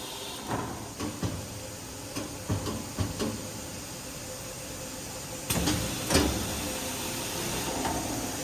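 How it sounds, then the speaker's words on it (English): A SuperbMelt coin minting machine, run in manual mode, opens its cylinder with a series of mechanical clicks and clunks over a steady machine hum, then a louder hiss-like release near the end, with no talking. "Under the manual model, open the cylinder up."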